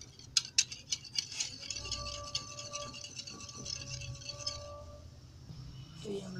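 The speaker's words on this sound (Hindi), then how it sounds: "ये देखिए मैं दही को इसमें फेंट रही हूँ" Yogurt mixed with chaat masala is whisked in a bowl with a spoon, producing quick clinking and scraping taps against the bowl, close but faint, with a light ringing tone and a voice talking near the end.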